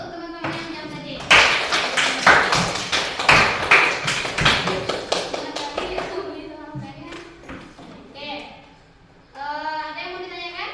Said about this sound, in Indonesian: kasih aplaus untuk teman-teman yang jawab tadi